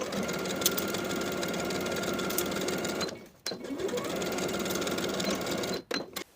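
A sewing machine stitches the shoulder seams of a plaid wool Ilford jacket, whirring steadily up close, breaking off briefly around midway and again near the end before resuming.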